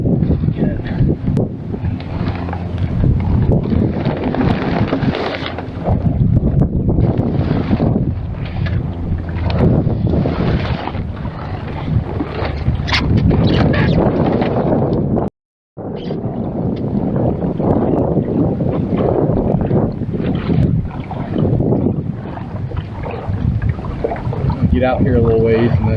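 Wind buffets a microphone aboard a small CLC Passagemaker sailing dinghy: steady, loud, broadband rushing throughout, with one brief dropout midway and voices talking under it.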